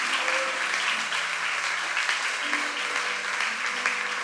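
A church congregation applauds their pastor with dense, sustained clapping that stays loud and even throughout, with a few voices faintly mixed in.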